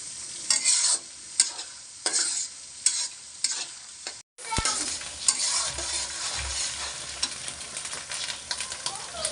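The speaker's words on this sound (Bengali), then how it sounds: "চিংড়ি মাছের নাচটা সুন্দর করে ভাজতে হবে।" Shrimp frying in a pan as a spatula stirs them, first in sharp, regular scraping strokes, then a sudden loud, sustained sizzle as more goes into the hot oil, close and clear without any talk.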